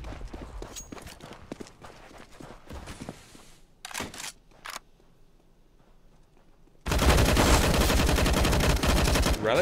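Rifle fire echoes across the Dust2 map in a Counter-Strike match between eUnited and Rogue: scattered crisp shots and short bursts, a quiet gap, then a loud continuous barrage of gunfire and game noise that fills the final seconds.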